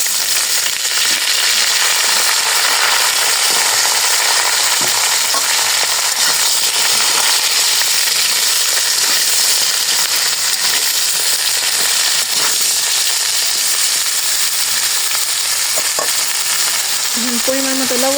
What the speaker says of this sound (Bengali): ভাজা হয়ে গেছে, এখন সবজিগুলো দিয়ে দেব